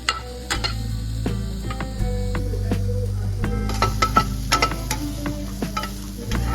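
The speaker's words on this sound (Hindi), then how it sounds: "थोड़े से ऑयल में मैंने पहले मशरूम सौते करना है, फिर मैं इसमें ऐड करूंगी ब्रोकली" Mushrooms and broccoli sauté in a little oil in a pan, giving a steady close sizzle broken by repeated utensil scrapes and taps from stirring, with no talk.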